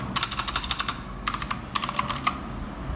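Quick, crisp clicking of typing on a Sades K10 mechanical keyboard with blue switches, two close bursts of evenly spaced keystrokes separated by a brief pause, with no voices.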